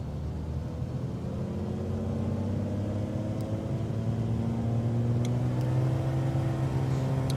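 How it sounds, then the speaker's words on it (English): Light aircraft engine in a flight simulator on a takeoff roll from Salzburg, steady droning propeller engine whose pitch climbs gradually as the throttle advances, loud and continuous. "Takeoff roll, let's put the strobe lights on. They are on, grand. Slowly advance the throttle."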